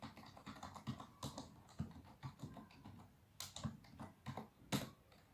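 Quiet, close computer keyboard typing comes in irregular bursts of clicking keystrokes while a file path is entered, with no talk during it.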